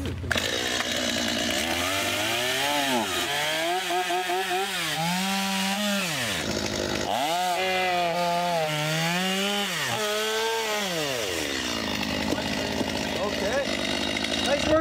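A chainsaw motor whines and revs up and down in long sweeping surges, loud and steady, with voices talking over it.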